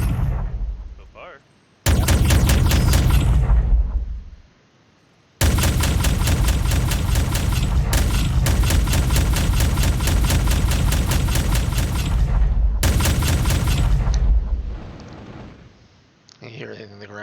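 Pulse cannon fire from a ship in a multiplayer space game: loud, sustained booming salvos of rapid pulses, one short burst and then a long continuous barrage of about seven seconds, separated by brief pauses, with a faint tone trailing at the end.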